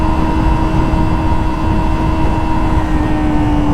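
A 2024 Kawasaki ZX-25R SE motorcycle engine screams at about 12,000 to 14,000 RPM, giving a sustained, high-pitched engine wail up close that climbs slightly in pitch and is heard alone.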